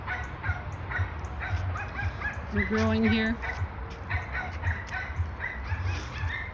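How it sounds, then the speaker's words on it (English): Dogs bark repeatedly in the background, with some whimpering yips, while a person speaks briefly over them outdoors in a garden among tomato plants. "Sorry about the dogs."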